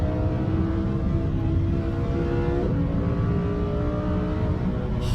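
Porsche and Lamborghini supercars racing along the Isle of Man TT Mountain Course, a loud, continuous engine drone holding steady throughout with no talk.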